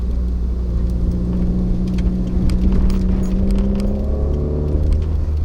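Modified 2015 Subaru WRX with a loud aftermarket exhaust, its engine note droning steadily and rising as it pulls under boost, heard from close by with no talking.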